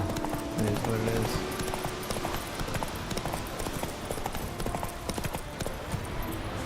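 Roach, the horse in the video game Witcher 3, gallops with a rapid, steady clip-clop of hooves, alongside game sounds and a voice talking over it.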